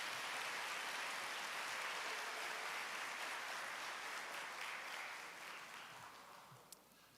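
A large crowd at a recognition ceremony applauds in a steady, dense wash of clapping that gradually tapers off toward the end.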